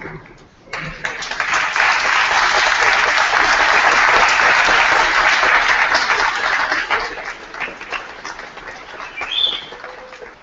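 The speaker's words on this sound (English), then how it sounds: "give them a huge round of applause" Graduates at a University of Guelph convocation applaud their support teams, a loud, dense crowd ovation that builds in after a quiet start, holds, then thins toward the end.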